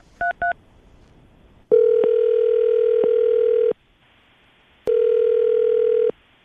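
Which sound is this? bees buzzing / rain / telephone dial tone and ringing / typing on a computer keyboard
telephone dial tone and ringing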